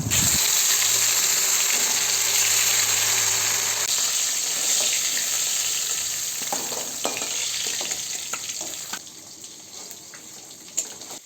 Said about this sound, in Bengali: লবণ হলুদ মাখিয়ে এবার ভেজে নিচ্ছি।